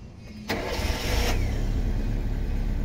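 A car with a newly fitted fuel pump starts up close by: a brief crank, then the engine fires and settles into a loud, steady idle with no speech.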